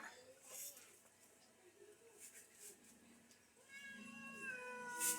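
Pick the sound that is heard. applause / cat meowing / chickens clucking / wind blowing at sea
cat meowing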